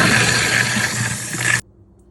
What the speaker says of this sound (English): With the water running, let it run for 1 minute.